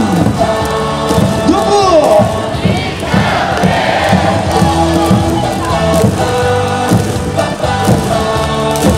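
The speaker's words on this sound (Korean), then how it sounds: "다시 한번 자리에서 일어나 구마타자 이창진 선수에게 박수를 부탁드립니다" Baseball crowd at Jamsil stadium during a KIA Tigers vs LG game, a dense, loud mass of cheering, shouting and clapping with rhythmic chant-like bursts and a stadium PA voice running throughout.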